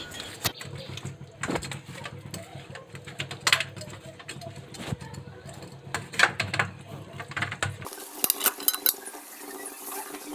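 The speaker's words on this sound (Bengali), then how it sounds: "ভেজে রাখা রোস্টের পিসগুলোর সাথে আমি 2 চামচ নর্মাল দই মিক্স করে নিচ্ছি।" Fried chicken roast pieces being mixed with two spoons of plain yogurt, producing soft, irregular spoon clinks and scrapes against a bowl. Faint background noise runs beneath them and drops away near the end.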